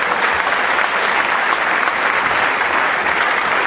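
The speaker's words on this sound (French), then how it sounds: "je crois que ça mérite des applaudissements" Loud, dense applause from a crowd at a Roland live music show, sustained and even throughout with no talking over it.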